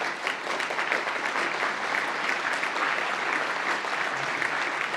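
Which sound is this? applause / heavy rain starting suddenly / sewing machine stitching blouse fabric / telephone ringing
applause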